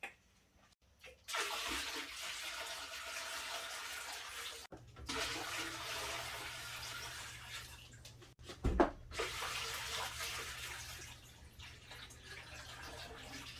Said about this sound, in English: I'm gonna now fill back the tank with sink water